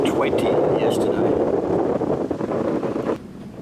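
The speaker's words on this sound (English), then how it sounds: "It's a wee bit windy and a little bit rough in the anchorage" Gusty wind buffeting the microphone at a rough boat anchorage on a reef, with a rough rushing roar and faint water sounds, easing off slightly toward the end.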